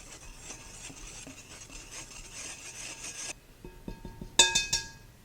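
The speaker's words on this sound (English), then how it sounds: "I'm just going to take a whisk and blend this all together." A whisk blends flour, salt and sugar in a bowl: steady scratchy strokes repeat in quick rhythm, then a few brighter metallic clinks ring out against the bowl near the end.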